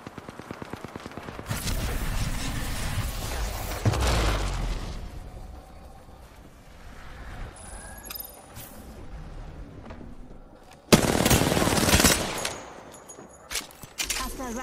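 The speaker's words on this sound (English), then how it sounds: "I'm spotted. Taking fire." Gunfire in the Apex Legends video game: loud bursts of automatic fire in several clusters, with sharp single shots and impacts, some near and some more distant, lasting most of the stretch.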